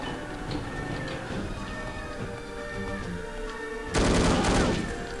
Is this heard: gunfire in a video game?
yes